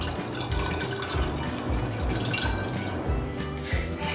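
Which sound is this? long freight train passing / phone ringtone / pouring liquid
pouring liquid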